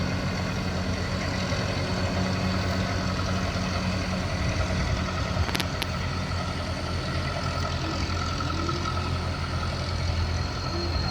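A heavy Fuso truck engine rumbles steadily at idle, a loud, constant low drone with a brief high click midway.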